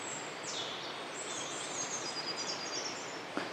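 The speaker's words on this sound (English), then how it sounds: "And the birdsong has made it even more enjoyable." Faint, distant birdsong drifts from the trees around a patch of snowdrops outdoors: thin whistled phrases over a steady outdoor hiss, with a soft rustle near the end and no one talking.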